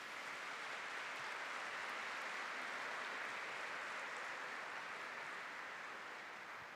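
Church congregation applauding together during a Christian service, a dense, steady wash of clapping from many hands that carries evenly through the whole stretch without a pause.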